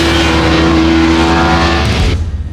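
A Kawasaki Ninja 300 sport motorcycle engine roars up close, holding a high steady pitch before cutting off sharply and dropping into a rough, uneven idle.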